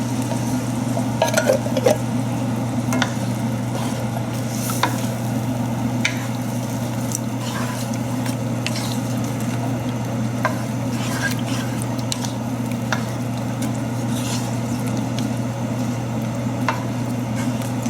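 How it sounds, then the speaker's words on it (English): Coconut milk from two cans is poured into a pot of curry sauce, with light stirring clinks and a low steady simmer running throughout. No voices are heard. "And then we'll add the coconut milk, the 2 cans of coconut milk."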